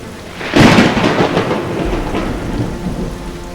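Heavy rain pours steadily while a loud thunderclap bursts in near the start and rolls on as a long, rumbling crash beneath the downpour, with no voices.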